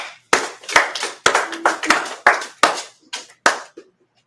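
Several sharp, separate claps ring out one after another in an uneven rhythm, a small group of hands at a Purim closing gathering, loud and close with no talk over them.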